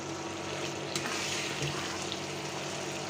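Spiced egg curry with tomato frying in a pan, a steady close sizzle and crackle of hot oil running unbroken throughout, with faint stirring scrapes and no voices.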